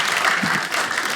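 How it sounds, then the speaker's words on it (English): A comedy club audience at a Dry Bar Comedy stand-up show breaks into loud, full applause, a thick continuous burst of many hands clapping close and steady, with a faint murmur of the crowd underneath. "I want you guys to clap if you're on board"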